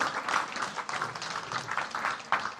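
A church congregation applauding and cheering, steady clapping in sustained waves with rising bursts of shouts throughout, fairly distant and diffuse.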